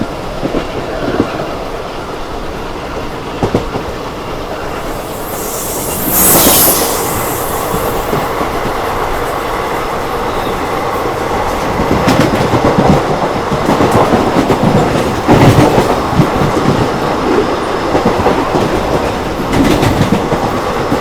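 A Mysuru Express train running on rails, heard from on board: a continuous rumble with rhythmic clickety-clack and occasional wheel squeal, holding close and steady, with a brief louder rush partway through.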